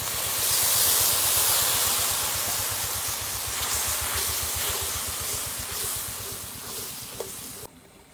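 Water poured onto green and dried chilli paste frying in a pan sets off a loud, broad steamy hiss that slowly fades over several seconds before cutting off abruptly.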